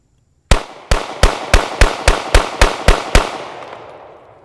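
A Sig P320 pistol, caked in sand and dirt, fires ten rounds in a quick, even string of loud, sharp outdoor shots that trail off into a fading echo.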